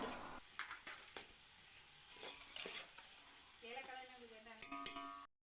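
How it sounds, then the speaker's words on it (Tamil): Onion and green chilli fry in ghee and oil, a close, steady sizzle with spoon scrapes and clinks against the pan, a brief tonal sound near the end before it cuts off abruptly. "வெங்காயம் பச்சை மிளகாய் சேர்த்து நல்லா வதக்கி விட்டுடலாம்"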